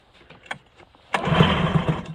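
An Arctic Cat ZRT 600 Triple snowmobile running on bad gas is cranked with a few quiet pulls, then its engine catches and roars into a loud, rough, sputtering run close by.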